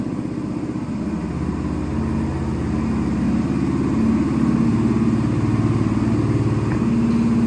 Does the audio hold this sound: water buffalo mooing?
no